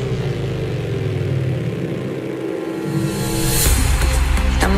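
An airplane takeoff sound effect dropped into an Afro house DJ mix: a loud, continuous engine roar that holds steady, then swells and brightens toward the end.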